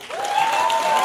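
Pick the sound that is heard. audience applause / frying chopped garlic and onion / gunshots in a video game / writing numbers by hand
audience applause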